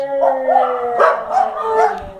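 A dog gives several close, loud yips and barks in quick succession, with a whining, howl-like quality, and no talk over them.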